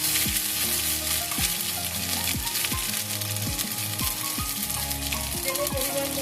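Ginger paste sizzling loudly in hot oil with fried tempering spices for chana dal, a dense steady frying hiss with repeated scraping stirs of a spatula against the pan.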